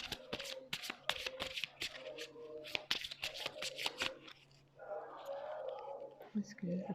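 Playing cards riffled and shuffled in quick bursts of crisp, close slaps and flutters, followed by softer sliding as a single card is drawn, with quiet speech-like murmuring in the background.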